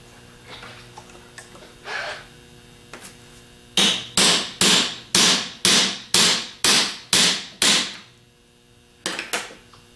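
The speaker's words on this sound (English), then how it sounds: "knock it out with a hammer" A hammer strikes a socket to drive the front bearing out of a Denso alternator: a few light taps, then about nine loud, evenly spaced metallic blows, and two more after a short pause.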